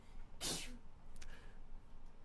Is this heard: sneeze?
yes